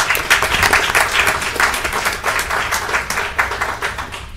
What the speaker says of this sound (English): We should give ourselves a round of applause for that